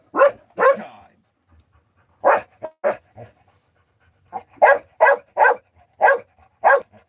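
A dog barks in short sharp bursts, a pair first, then a rapid run of repeated barks after a pause, close and loud.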